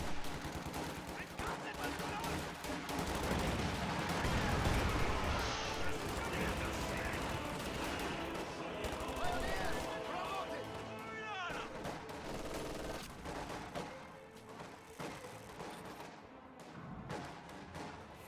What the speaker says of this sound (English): MG42 set up right here, pushes away a few squads